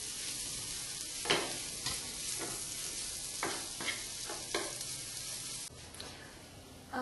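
Mashed potatoes being stirred into sautéed seasoning in a pan for potato-stuffed bread pakoda, quiet sizzling with repeated scraping spoon strokes at irregular intervals, no voice.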